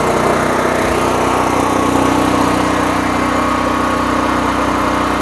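A small engine on a generator-type winter tool runs steadily after cranking, giving a loud, continuous buzzing drone with a steady throb and no talking.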